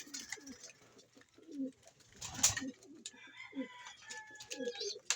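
Pigeons in a loft coo softly in repeated low throaty phrases, with scattered chirps and rustling from several birds, fairly quiet and close.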